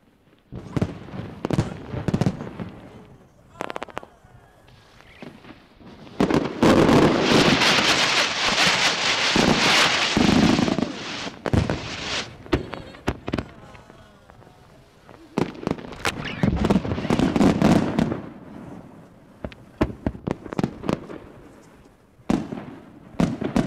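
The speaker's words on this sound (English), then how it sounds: "After the banquet, fireworks." Japanese shells bursting in a fireworks display after a banquet at the celebration for the old London Bridge's new home in the USA: loud repeated booms and crackling bursts in clusters, with wind buffeting the microphone and no talk.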